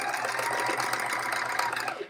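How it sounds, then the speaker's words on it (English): A home sewing machine, freshly serviced at a local sewing and vacuum repair shop, runs with a steady, even mechanical hum and faint rhythmic motor whir throughout, close and continuous with no talking. "It definitely has a little bit better hum to it after I brought it in to the"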